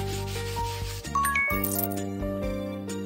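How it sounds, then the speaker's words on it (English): Scratchy rubbing brush strokes on a horse's hair in a beauty salon game repeat over chiming, tinkling game-style tones and sparkly effects. "Brush its hair and make it shiny."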